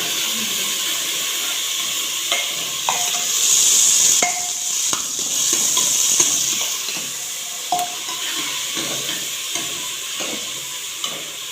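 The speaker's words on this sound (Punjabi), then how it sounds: "ਹੁਣ ਤੜਕਾ ਲਾਉਣਾ ਪਿਆ" Spices tempering in oil for spinach and potato curry, sizzling and hissing steadily in a hot pan, with occasional clinks of a spoon stirring against the metal.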